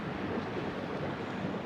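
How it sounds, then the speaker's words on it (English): A tour boat on the Douro River carries a steady, even rush of water and wind, with a constant wash of broadband noise and no voices. "now we are out on the Douro River on a boat tour"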